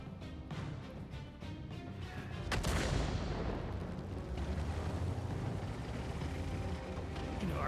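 Heavy artillery fire in a video game rumbles as a sustained, loud barrage of booming blasts with a big impact near the three-second mark, rolling on continuously afterward.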